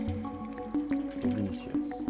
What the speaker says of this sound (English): I can drink water!